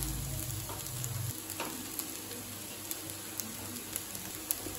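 Cooked rice tipped into a frying pan and stirred with carrot for carrot rice, a soft sizzle and scraping stir with a few light clinks, close and steady with no talking.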